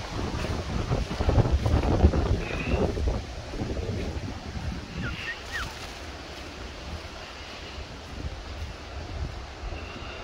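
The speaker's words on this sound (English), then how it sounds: "It's too windy." Strong wind buffets the microphone in heavy low rumbling gusts, loudest early on, then settling into a steady roar.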